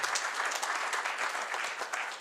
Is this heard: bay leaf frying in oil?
no